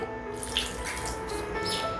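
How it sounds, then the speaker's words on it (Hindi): Water is poured a little at a time into a semolina and yogurt batter for masala rava idli, a soft, steady trickling and splashing heard close up and fairly quiet. "यहाँ पर 1 कप पानी लिया है, इसे थोड़ा थोड़ा करके मिलाएंगे"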